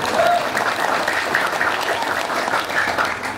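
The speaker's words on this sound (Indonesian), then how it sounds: "tepuk tangan untuk para guru kita." Audience applause for the teachers at an event at the Miftahul Ulum pesantren (Islamic boarding school), a steady wash of clapping filling the room, with faint whistles or tones cutting through.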